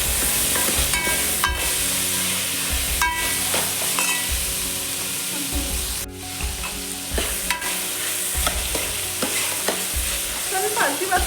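Minced mutton keema and field beans fried and stirred in a pan for a country-style sambar, a loud continuous sizzle broken by repeated scraping strokes of a ladle, with no talking.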